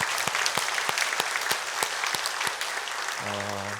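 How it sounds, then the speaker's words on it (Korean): A church congregation applauds after an evening worship service, steady crowd clapping with some individual hand claps standing out, moderately loud and sustained, then fading as a low tone enters near the end. "박수로 영광 올려드리겠습니다."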